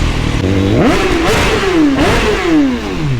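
A 2021 Suzuki Hayabusa motorcycle revving hard nearby, its engine pitch climbing and falling in several sharp rising sweeps over about three seconds, loud and close.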